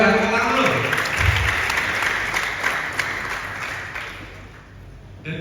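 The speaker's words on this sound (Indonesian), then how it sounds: "Luar biasa, tepuk dulu." A crowd of students claps for a top-ranked pupil at an Islamic boarding school graduation ceremony, a dense burst of applause that slowly thins out, with a voice briefly heard under it.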